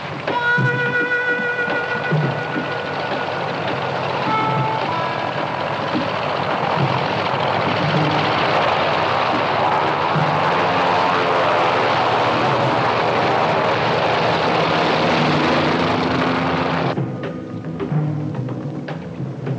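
Aircraft engine drone in flight, a steady loud broadband roar that holds for most of the clip and drops slightly near the end, with faint tones early on.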